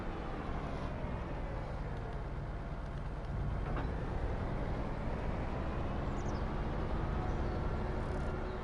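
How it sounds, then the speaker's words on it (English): A train passes in Farming Simulator 25 at Silverrun Forest, heard as a steady, broad rumble with rolling rail noise that swells slightly about halfway through and holds loud to the end, with no talking. "Hopefully the train don't get me"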